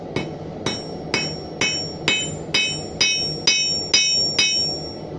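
Hammer strikes flattening the end of a forged nail hook, about eleven ringing metallic blows at a steady, slightly quickening rhythm, close and loud over a low background roar.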